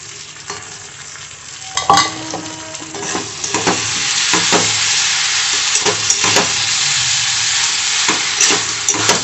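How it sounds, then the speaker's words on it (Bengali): Pieces of fish are stirred in a sizzling masala, a spatula scraping the pan in uneven strokes over a steady loud frying hiss. "মাছটা দিয়ে একটু মশলাটার সাথে কষিয়ে নিই"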